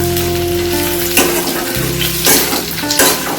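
Two medium tomatoes and slit green chillies drop into hot oil in a frying pan for a Bengali egg curry, giving a steady close sizzle with a few louder bursts as pieces hit the oil.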